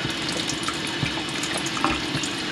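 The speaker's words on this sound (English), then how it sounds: "I'm going to turn the water on over there for now." A kitchen sink tap runs steadily, a continuous splashing water stream at moderate level with small irregular drips and gurgles and no voices.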